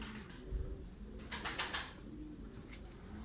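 Hungarian Giant pigeons in a breeding loft at Karacabey, Bursa give soft, low coos, faint and close, broken by a few brief rustling flutters of wings.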